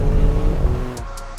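Alfa Romeo Stelvio Quadrifoglio SUV with an 8-speed gearbox accelerating hard, a loud close engine roar that drops off abruptly as if shifting or lifting.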